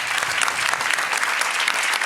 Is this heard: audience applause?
yes